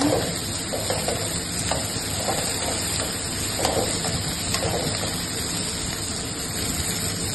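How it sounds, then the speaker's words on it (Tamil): Steady sizzling of onions being sautéed in oil for a fish curry made by a wedding caterer cook, a continuous frying hiss with occasional stirring scrapes and no talk. "நல்லா வதக்கிக்கறாங்க"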